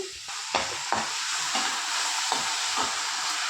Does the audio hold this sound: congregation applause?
no